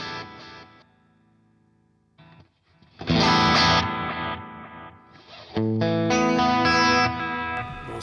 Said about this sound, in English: here's a little mono delay